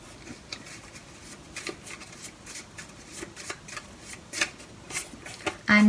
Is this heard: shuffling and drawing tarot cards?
yes